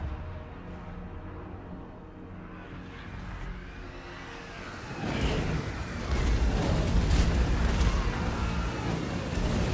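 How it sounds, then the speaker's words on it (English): Heavy artillery fire in a Total War Warhammer 2 online battle, starting as a low rumbling din and swelling midway into dense, overlapping booms and crashing impacts that stay loud to the end, with no talking. "the battle starts, and we're going to see some heavy artillery fire."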